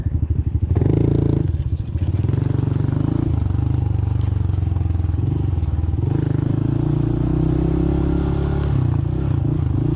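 A Honda CT125 motorcycle runs along a trail with big drop-offs beside it, its engine a loud, continuous drone close to the microphone, mixed with rattling and scraping over rough ground.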